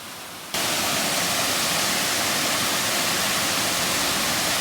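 Waterfall near a hammock campsite by little streams, rushing water that starts abruptly and then holds a loud, steady broadband roar, close and continuous, with no talk.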